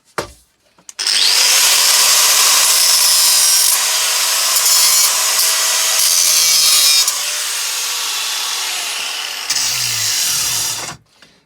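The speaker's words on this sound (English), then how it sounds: "So we hit it with an angle grinder." An angle grinder bites into an aluminium part of an ironing press, a loud sustained harsh grinding roar that starts abruptly, shifts slightly in pitch midway, and cuts off at the end, with no talking.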